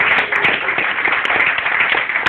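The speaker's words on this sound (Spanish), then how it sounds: "¿Cuánto le rinden una ofrenda de aplausos al Señor?" A church congregation applauds, a dense continuous wash of many hands clapping together, loud and sustained throughout.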